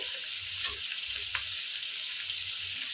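Onions browning in hot oil in a pan while sorakaya pappu is made, giving a steady, even hiss with soft crackles, close and moderate in level, with no talk.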